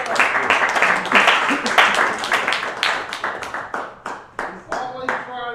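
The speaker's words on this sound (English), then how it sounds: "Let's get a round of applause." Audience clapping after a question session with a state representative at a live talk event, a brisk patter of many hands that swells then thins into scattered claps, with a voice speaking over it.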